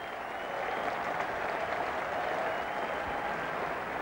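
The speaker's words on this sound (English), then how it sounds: "this Oval crowd giving a very good reception now to Alan Wells" Oval cricket crowd at a 1995 England versus West Indies Test applauding Sussex captain Alan Wells, a dense, sustained wash of clapping from a large stadium audience, steady and full throughout with no voices standing out.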